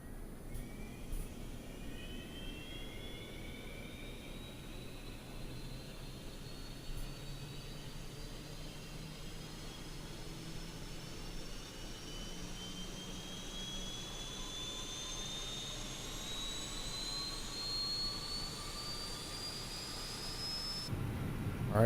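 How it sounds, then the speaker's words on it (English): An airliner's auxiliary power unit in a flight simulator spools up from outside the aircraft, a steady jet roar with a whine that climbs slowly in pitch over about twenty seconds, heard alone without talk. "Let's turn our APU on now. Let's go outside so you can hear it boot up."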